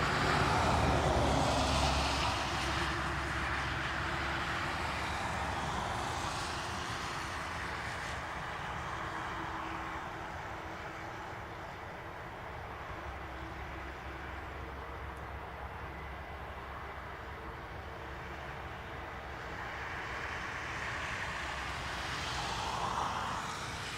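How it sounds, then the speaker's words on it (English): An Airbus A330 taxis at Dublin Airport, its engines giving a broad, steady distant roar that swells slightly at the start and end, with no talk. "There is an A330 on taxi."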